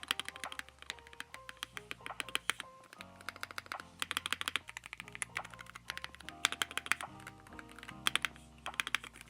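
Rapid typing on a Wooting 80HE keyboard, irregular bursts of crisp key clacks and taps, close and clear with no talk.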